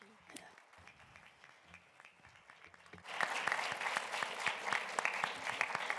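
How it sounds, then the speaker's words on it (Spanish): Quiet murmuring gives way to loud, sustained audience applause at a book presentation during an art book fair in a Valencia museum, dense clapping that holds steady for about three seconds. "Vamos a dar un aplauso."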